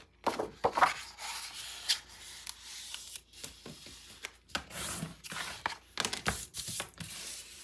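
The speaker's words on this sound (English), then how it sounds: "Then you're gonna score in at 5/8 of an inch." Paper being scored with a tool for a 9 x 9 mini album, heard as close, uneven scraping and rubbing strokes with scattered taps, with no talk.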